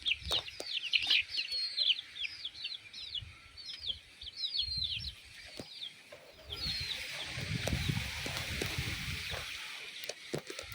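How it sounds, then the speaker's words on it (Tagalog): A large flock of chickens on a farm lot clucks and calls continuously, with rapid repeated bird calls over a steady rustling, outdoor background at moderate distance. "Ayan, mga manok dami."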